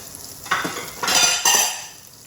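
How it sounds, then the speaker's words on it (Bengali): A spoon stirs and scrapes through a pan of eggs frying in curry, giving three bursts of scraping and sizzling over a soft background hiss. "তরকারির মধ্যে অনেকটা ডিম ভাজা করতেছি"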